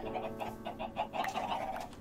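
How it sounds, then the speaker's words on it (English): Chickens clucking in the Minecraft video game, a string of short, close, repeated clucks in an uneven rhythm over a steady low background hum, with no talking. "Chickens."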